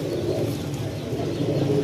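A highflyer pigeon coos in low, soft, repeated murmurs close by, a gentle rolling rhythm carrying on steadily with no talking over it.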